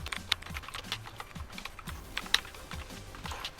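Typing on a computer keyboard while coding an Arduino program, with irregular close key clicks and occasional sharper taps, alone and without speech.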